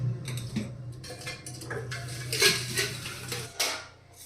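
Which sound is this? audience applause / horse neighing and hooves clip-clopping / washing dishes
washing dishes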